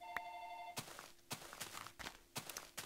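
A phone rings briefly near the start with a short tonal burst, followed by scattered clicks and thuds from other activity; no voices.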